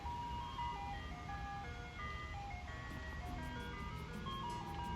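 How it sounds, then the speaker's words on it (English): An ice cream truck plays its tinkling chime tune outside, faint and distant, above a low rumble of road traffic, with no talk over it. "It's been ages since I've got something from the ice cream truck."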